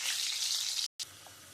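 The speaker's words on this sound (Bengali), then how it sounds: "আমি আলুটা একটু ভেজে নেব।" Potatoes frying in hot oil for a chicken curry, a close, bright crackling sizzle that cuts out for a split second and then resumes more softly.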